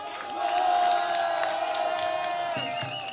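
A live audience at a metal band's concert cheers and whoops in a sustained wash of crowd noise that swells early and then holds steady.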